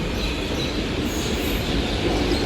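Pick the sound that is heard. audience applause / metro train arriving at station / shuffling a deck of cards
metro train arriving at station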